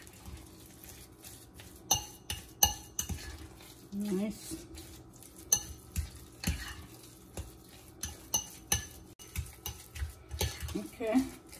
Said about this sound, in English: I'll just keep on stirring.